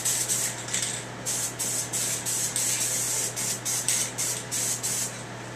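Spray gun laying a light coat of John Deere Blitz Black paint, a close hissing spray in short repeated passes of about half a second each over a steady low hum, no voices.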